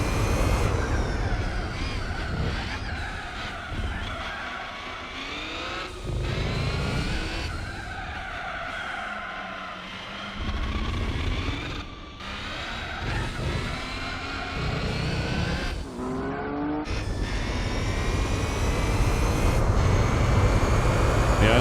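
Race cars in Gran Turismo 4 on the Paris street circuit, engines whining and rising and falling through gear changes with tyre squeal under braking, loud and continuous throughout.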